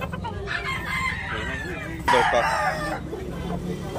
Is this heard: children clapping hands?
no